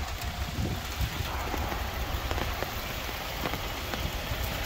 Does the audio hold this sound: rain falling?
yes